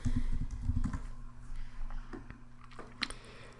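Quick, light keystrokes on a computer keyboard, a short flurry of clicks up close followed by a few scattered taps, fairly quiet against a low hum.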